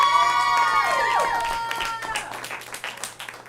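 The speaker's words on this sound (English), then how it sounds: "If you like the door and think it's worthy of winning, clap for that door." An office team meeting audience claps and cheers, with whoops and shouts rising over the applause at first, then the clapping thins out and fades over a few seconds.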